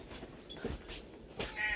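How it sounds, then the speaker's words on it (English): An indoor cat yowls to be let outside, a faint, brief meow or two rising against a quiet room background. "I've got to let this cat out or he's going to keep screaming."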